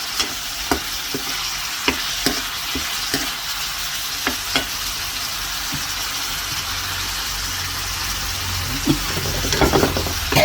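Pork meatballs stir-fry in a hot pan, giving off a steady close sizzle. A spatula clacks against the pan in irregular taps, and a busier scraping flurry comes near the end.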